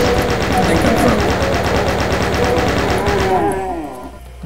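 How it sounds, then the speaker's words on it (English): Chain gun firing in a video game, a dense, sustained rattle of rapid shots that runs loud and steady for about three and a half seconds, then cuts off and fades, with game sounds and effects layered underneath. "Chain gun"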